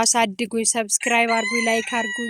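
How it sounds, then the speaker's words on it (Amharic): A rooster crows loudly and close by in a rural village, its call overlapping someone speaking. "እዛ ጋር ደግሞ ዶሮ ይጮሃል"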